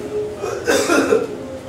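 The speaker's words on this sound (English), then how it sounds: "A brief hacking cough." A single short, rough cough bursts out over a quiet background hum, lasting under a second.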